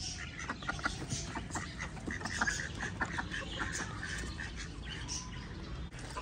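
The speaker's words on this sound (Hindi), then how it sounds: "डक्स खाना आ गया, डक्स इधर आओ, आ जाओ डक्स" Ducks quack continuously at feeding time in a backyard poultry yard, a dense overlapping chatter of quacks with a few squawks and chirps mixed in, close and steady throughout.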